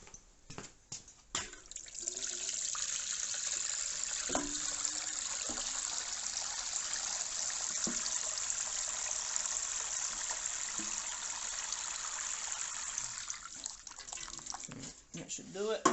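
Water pours into an ultrasonic cleaner tank holding degreaser concentrate, a steady splashing gush lasting several seconds, with a few drips and clunks at the start and end and a quiet voice nearby.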